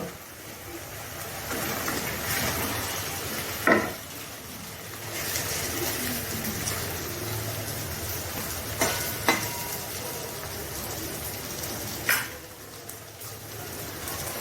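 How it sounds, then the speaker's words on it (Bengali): Pre-fried raw banana koftas drop into a pan of sizzling masala curry, bringing a steady frying hiss with stirring scrapes and a few sharp knocks. "এর মধ্যে দিয়ে দেবো আগে থেকে ভেজে রাখা কোপ্তাগুলো"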